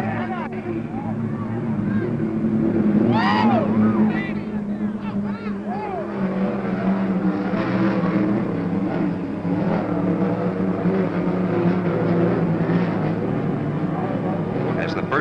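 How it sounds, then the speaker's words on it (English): Unlimited hydroplane racing boats from 1950s Seafair races roar at high speed over water, a loud, steady engine drone with passing swells, mixed with crowd noise and commentary. "the powerful engines hurl the hydros over the water at speeds of better than 150 miles per hour down the straightaways"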